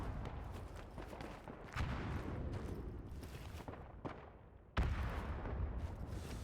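Mortar fire in the video game Verdun: repeated heavy booms and blasts at irregular intervals, several sharp loud impacts over a rumbling battlefield background.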